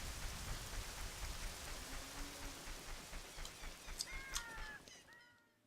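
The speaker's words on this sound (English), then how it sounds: "It is raining though." Steady video-game rain in Legend of Zelda: Ocarina of Time, falling with pattering drops, crows cawing and birds calling in the distance, fading out at the end.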